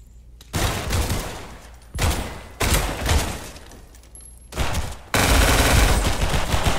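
Heavy shotgun blasts in the Roblox game Decaying Winter, four loud booming bursts spaced a second or two apart, each trailing off before the next, the last one sustained and rumbling.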